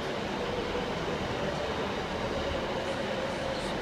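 Noisy trains at Glasgow Central railway station make a continuous loud rumble and hum under the station roof, steady throughout with a faint tonal drone and no talking.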